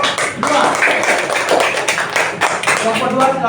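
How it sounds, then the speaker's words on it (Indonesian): Classroom students clapping together for a group of classmates, a dense continuous patter of hand claps with voices mixed in. "Tepuk tangan dulu untuk kelompok 2."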